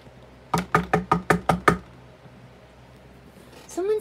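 Seven quick, evenly spaced knocks on a door ring out close and fairly loud, followed by silence and then a short burst of sound at the end, in a playful setting with toy plush characters.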